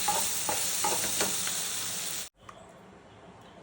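Pumpkin chutney ingredients fry and sizzle in hot oil in a pan, a continuous bright hiss with occasional stirring scrapes that cuts off abruptly, leaving faint quiet noise.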